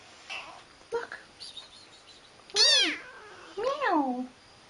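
An indoor pet cat meows twice, close and clear, each call a rising-then-falling wail, after a few quieter sounds and a person's voice speaking softly nearby.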